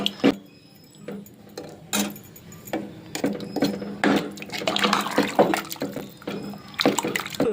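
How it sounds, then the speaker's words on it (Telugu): Water poured from a glass into a cooking pot of mutton curry, a steady liquid splash broken by a few clinking knocks against the pot, close and fairly loud with no talk. "ఈ సైజు గ్లాసు 2 గ్లాసులు వాటర్ పోసాను"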